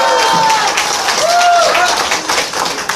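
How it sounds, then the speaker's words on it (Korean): An audience at a Seoul political rally applauds and cheers, a dense wash of clapping from a crowd that fills the short stretch with a few voices mixed in. "힘찬 박수로 환영해 주시기 바랍니다"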